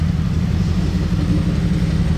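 A Mercedes C63 estate at the Monaco Grand Prix gives off a loud, close, continuous low roar and rumble with no talk over it.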